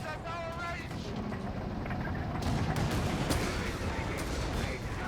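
Dense gunfire and heavy tank cannon shots from a World War II battle in Company of Heroes 3, StuG G assault guns firing against a Crusader, continuous loud rattling bursts with booming impacts throughout.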